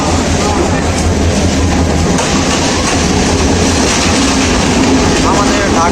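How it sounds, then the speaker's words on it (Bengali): A Dhaka-bound express train pulls in near Sreemangal, Bangladesh, with a loud, continuous close rumble and rattling clickety-clack of wheels and carriages, and voices faintly beneath the noise. "আমাদের ঢাকা অভিমুখী বারাবাদ এক্সপ্রেস চলে এসেছে।"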